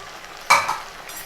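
Frozen peas being stirred into sizzling pav bhaji masala in a pan, a short scraping stir with a brief burst of frying sizzle, close and alone.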